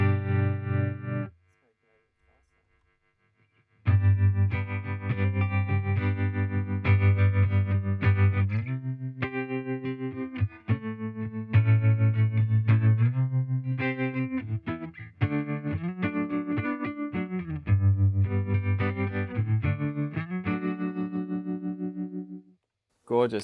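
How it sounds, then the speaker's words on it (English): Guitar played through a Fender Champion 50XL amp with tremolo effect, giving pulsing chords and melodic lines with a wavering, throbbing volume. A short pause comes near the start, then a long passage plays loudly. "And I might slow this tremolo sound down a bit"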